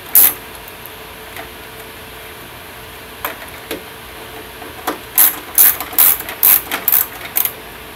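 Ratchet wrench tightening loose bolts in a crisscross pattern, with scattered single clicks early on, then a close, loud burst of rapid ratcheting strokes in quick succession.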